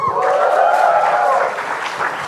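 A brief burst of audience applause and cheering for a young woman on stage at an NDTV Yuva event, close and lively, fading slightly toward the end.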